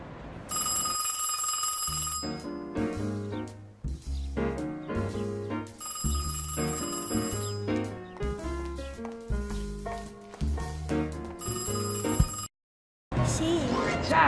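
A telephone rings in repeated bursts while a friend is being called, the electronic bell-like tone coming in regular cycles over a background of music, loud and close, with a brief silence near the end.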